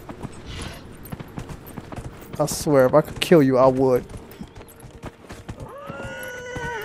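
A horse in the video game Dragon Age: Inquisition clip-clops at a steady gait and lets out a loud, wavering whinny midway, while someone talks over the hoofbeats.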